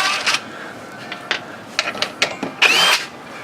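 A battery drill drives screws into a wooden squirrel house in short, separate bursts, several quick whirs followed by a longer final run, close and loud.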